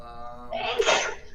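A single sharp sneeze bursts out after a brief strained, voiced intake, loud and close, then fades quickly.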